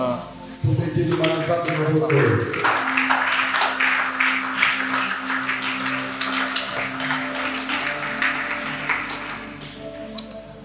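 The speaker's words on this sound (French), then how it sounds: "On acclame." A church congregation breaks into dense, steady applause that starts abruptly after a sustained organ or keyboard chord and continues evenly for several seconds, fairly close and full.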